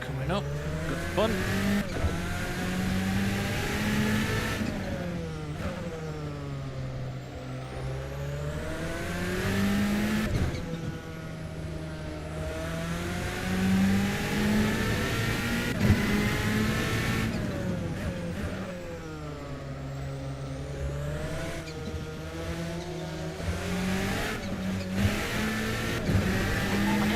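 GT3 race cars in a sim racing game at Circuit Paul Armagnac, engines revving and rising and falling in pitch as they draw near, with occasional tire squeal, loud and continuous beneath someone talking.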